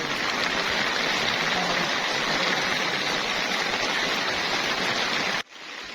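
Steady rain pours down in the misty hill country of Nathia Gali and Murree, a dense continuous hiss close by with no voices, cutting off abruptly just before the end.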